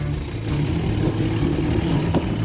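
An engine drones steadily nearby as a vehicle strains to tow a stuck car on a farm, a continuous low rumble with slight surges and no speech.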